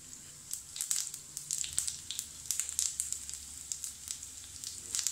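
Cumin seeds sizzling in three tablespoons of hot oil for a tempering, a close crackling sizzle with rapid irregular pops and spits over a low hiss.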